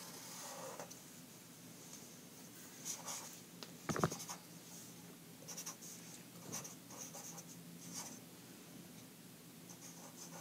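A pen or pencil scratches out labels on a geometry diagram of transversals and parallel lines. The strokes are soft, close and intermittent, with one sharper tap midway, over a quiet room.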